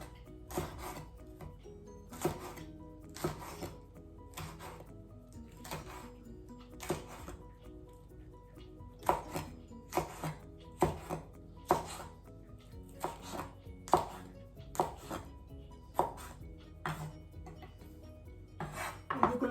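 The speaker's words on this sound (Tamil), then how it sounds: "இந்த 2 பச்சை மிளகாயையும் தூளாக வெட்டிக்கொள்ளுவோம்." Two hot green chillies from a home garden being finely chopped with a knife, heard as a series of crisp, close, rhythmic taps on a cutting board, some in quick pairs, with no talking.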